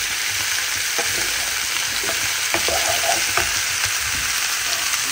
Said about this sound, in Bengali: মশলা দেওয়ার আগে চাচ্ছি আমি তেলের সাথে একটু ভেজে নিতে